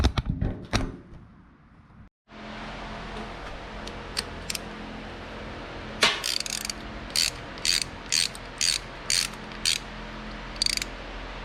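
A hand ratchet tightens the weeping oil cap on a tractor, refitted with pipe thread sealer, giving a run of sharp, close clicks in quick bursts over a steady background hum, with no talking.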